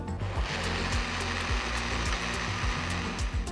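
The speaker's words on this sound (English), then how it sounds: "then you can add the milk and blend everything together till you get a nice thick milkshake" A blender whirs steadily as it purees a dry fruit paste with milk into a thick milkshake, the motor droning close and loud with a few short pitch dips as the load shifts.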